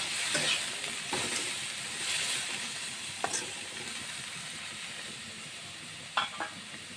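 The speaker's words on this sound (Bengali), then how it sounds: "আলু ভাজা তেলগুলোর ভিতরে আমি ডাঙ্গুটিটা অল্প ভেজে নেব।" Dangguti frying in the oil left over from frying potatoes, giving a soft, steady sizzle at moderate distance with occasional spatula scrapes and a couple of clinks against the pan.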